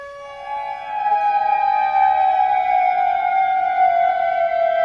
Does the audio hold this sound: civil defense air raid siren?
yes